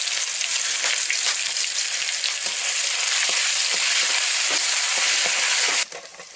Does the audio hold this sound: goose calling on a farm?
no